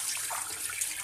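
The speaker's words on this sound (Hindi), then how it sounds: "इसमें सिंपल डालेंगे पानी" Water pouring from a tap or vessel into a pressure cooker holding beef trotters, a brief splashing gush at moderate level.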